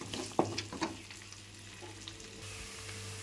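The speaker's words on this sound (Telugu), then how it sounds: "ఉల్లిపాయలు బాగా వేగిపోయాయి." Onions frying in a pan with dried red chillies, a soft continuous sizzle broken by a few clinking stirs of a spoon early on; quiet and close, no voices.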